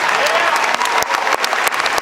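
A debate audience breaks into applause, with dense, loud clapping and a crowd murmur rolling steadily throughout.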